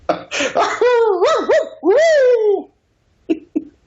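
A person imitates a hound dog howl with their voice, a loud close sequence of rising and falling wavering howls and yips lasting a couple of seconds, followed by a pause and two short vocal bursts.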